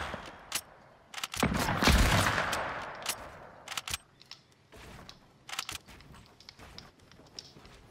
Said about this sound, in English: I don't know why I use my shotgun.